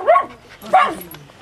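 Two sharp dog barks, close and fairly loud, spaced about half a second apart in a home setting, with a faint voice in the background.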